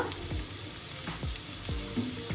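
Chopped onion and chili sizzle in hot oil with browned garlic for a fish curry, a steady close frying hiss broken by a few short scraping stirs.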